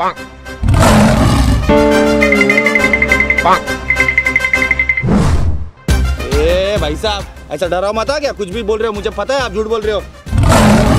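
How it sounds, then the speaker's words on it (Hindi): A lion's roar rumbles in short bursts during a comedic jungle trip with kids, mixed with music and excited voices talking over it. "अरे ये तो शेर की आवाज है।"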